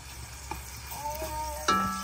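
Garlic frying for a sauce gives a faint, brief sizzle, with a few soft clinks and a short scrape near the end.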